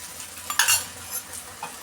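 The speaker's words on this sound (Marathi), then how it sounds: "बाजूला तेल टाकून घेऊ आपण।" Oil sizzling on a griddle around a tomato dosa omelette, a light crackling hiss with a few brighter spatters and faint utensil scrapes, close and without speech.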